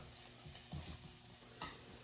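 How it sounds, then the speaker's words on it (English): Faint, steady sizzling of pork frying in a pan, with a couple of soft scraping spatula stirs and no voices. "you can hear the pork, it's starting to sizzle up"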